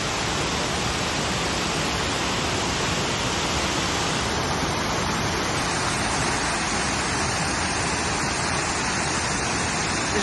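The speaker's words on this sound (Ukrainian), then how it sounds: "А це ще один водоспад, він називається верхній" The upper waterfall, with a bridge above it, thunders in a loud, continuous rushing roar from nearby, unbroken for the whole stretch and with no one speaking.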